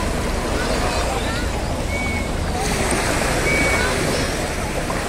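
Sea waves washing onto the beach at Deep Water Bay, Hong Kong, a dense steady roar of surf and wind noise, close and loud throughout without clear breaks.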